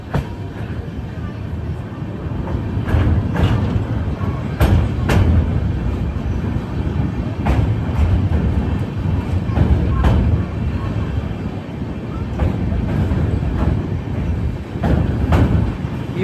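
The Himsagar Express rolls along on a long-distance journey toward Jammu, with a continuous loud rumble of wheels and carriages and scattered clicking and clacking of rail joints throughout.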